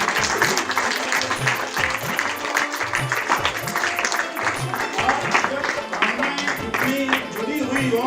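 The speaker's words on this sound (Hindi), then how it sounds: "तो एक तालियों की गड़गड़ाहट उनके लिए" An audience at a Martyrs' Day gathering in Balgram Rai, Sonipat, breaks into sustained applause, a dense wash of clapping that carries on while a voice speaks over it.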